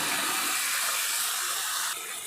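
Water is poured into a cooking pan of spiced fish with cut potatoes and pointed gourd, a close, loud continuous splashing rush that eases slightly near the end, with no speech.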